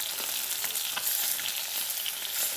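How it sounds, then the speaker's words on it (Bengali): Fish frying in a pan in a home kitchen ahead of a potato and tomato curry, a steady close hiss of hot oil with scattered crackles and pops running without pause. "তো চলো এখন মাছগুলো ফটাফট ভেজে নিই।"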